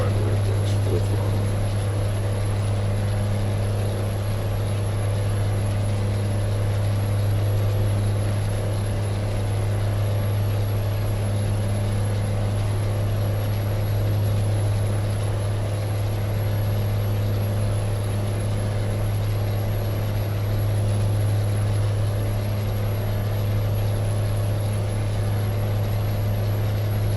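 A heavily loaded truck's engine in American Truck Simulator drones steadily at full throttle, a constant deep hum with a high whine above it that holds for the whole stretch on a British Columbia highway.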